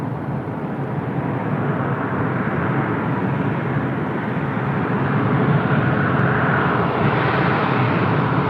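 A jet airliner at LAX produces a loud, continuous roar that holds steady and swells gently as it passes, with no voices over it.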